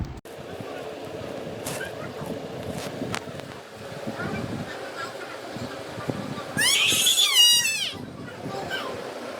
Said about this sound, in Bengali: কতগুলো বিড়াল মামা, বিড়াল বাচ্চা।